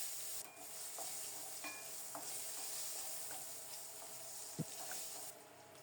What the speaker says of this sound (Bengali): খুব সুন্দর মতো চিংড়ি মাছগুলি ভাজা হয়ে গেলে এখন দিয়ে দেব রসুনগুলো।